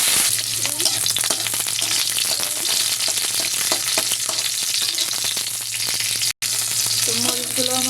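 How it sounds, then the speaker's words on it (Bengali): Chillies fry in hot oil in a kitchen, giving a loud, continuous sizzling hiss with scattered pops and crackles. There is a brief dropout near the end, and no talking is heard. "ওই তেলেতে আমি মরিচটা ভেজে নেব।"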